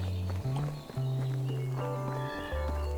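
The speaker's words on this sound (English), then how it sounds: "ooh, horsey" Horse hooves clip-clop in a medieval farming video game, with a steady close trot of hoofbeats under sustained tonal game music and a faint whinny.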